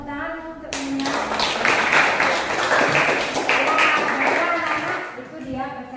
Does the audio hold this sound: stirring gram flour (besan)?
no